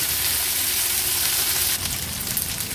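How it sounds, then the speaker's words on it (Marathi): Mixed vegetables stir-frying in oil in a pan over a high flame, a close, loud, continuous hiss and crackle that shifts slightly partway through as the pan is stirred. "तीन ते 4 मिनिटांसाठी या भाज्या मी तेलावर अशाच परतून घेते।"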